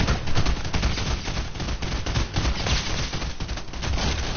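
Sustained automatic gunfire in a PS4 video game, rapid dense bursts rattling steadily and loudly for over four seconds with no pause.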